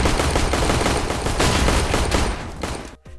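Dense, cluttered rapid gunfire from the game CSGO, loud bursts overlapping continuously before cutting out abruptly near the end.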